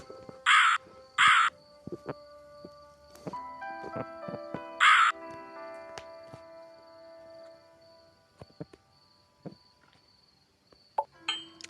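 Three short, sharp crow caws from the puzzle game Rusty Lake Roots, two close together and one a moment later, over quiet game ambience with faint clicks.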